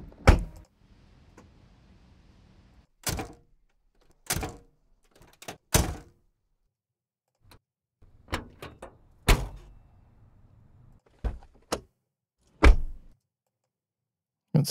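Car door sound effects from a professional library play as a string of separate sharp thunks and latch clunks, some with a short rattle of the door moving, each cut cleanly with silence between, loud and close.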